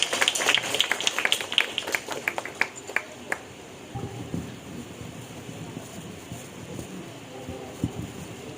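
Hands clap in a scattered, uneven burst that fades after a few seconds, greeting a performer who is a young violin student called onto the stage at a disability day event, with a low murmur of voices and room noise afterward.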